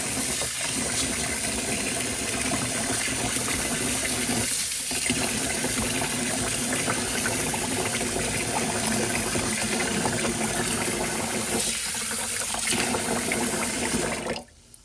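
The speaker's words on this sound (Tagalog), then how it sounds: "lagyan ko ng water." Water poured steadily onto five cups of glutinous rice for soaking, a continuous close splashing fill lasting the whole stretch with no talk, stopping abruptly at the end.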